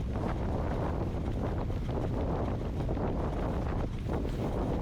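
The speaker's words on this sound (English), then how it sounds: "this is going to get so much worse, this wind, as soon as we turn directly into it" Strong headwind buffets a cyclist racing in a winter road race, a continuous close roar of wind across the microphone that holds steady throughout with no voices.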